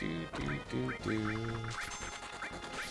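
A bird enemy in a Final Fantasy VII battle lets out a run of loud, close, quacking squawks in quick succession, with chirpy electronic game effects and a faint voice mixed underneath.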